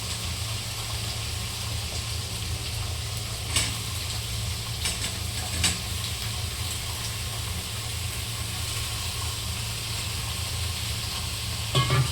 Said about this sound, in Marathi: आता याला मस्त मी असं मिक्स करून घेतो.